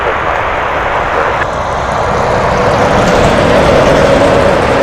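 Aircraft flying over Anchorage's Ted Stevens airport during a landing approach to runway 7 right, a steady broad engine roar holding loud throughout, swelling slightly toward the end.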